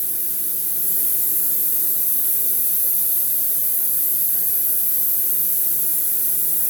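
Plasma cutter cutting steel, a loud continuous close hiss of rushing air and arc with no breaks, alone without talk.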